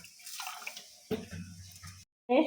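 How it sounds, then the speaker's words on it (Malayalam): A small amount of vinegar is poured onto rock salt, making a quiet, brief trickle and splash of liquid. It is soft and close, then cuts out before a short louder burst at the end. "ഞാൻ കല്ലുപ്പ് ഇതിലോട്ട് ഇത്തിരി വിനാഗിരി ഒഴിക്കുന്നുണ്ട്"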